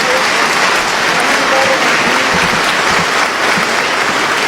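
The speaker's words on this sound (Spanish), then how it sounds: "Que se escuche ese aplauso." Sustained, dense audience applause fills the hall for Eleazar Guerrero Pérez after his address at a public servants' event, steady and loud throughout with no voices on top.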